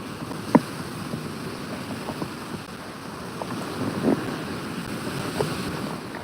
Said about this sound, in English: There's gonna be a lot of waves in the background